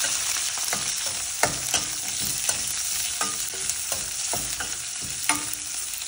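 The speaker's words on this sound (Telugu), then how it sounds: "మనం కట్ చేసి పెట్టుకున్న ఉల్లిపాయ, కొత్తిమీర, కరివేపాకు, అలాగే తెల్లగడ్డ కూడా వేసుకొని వేయించుకుందాం." Chopped onion, coriander, curry leaves and garlic fry in hot oil for a taro (arbi) curry, giving a steady close sizzle broken by frequent sharp clicks and scrapes of a stirring spoon against the pan, with no talking.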